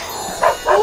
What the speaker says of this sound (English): That's my dog, Lino.